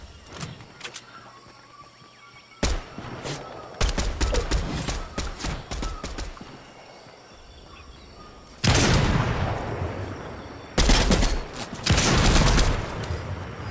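Rapid gunfire bursts in a Fortnite Trios no-build match, starting with scattered shots and building into loud, dense volleys that come back in two heavy stretches near the end.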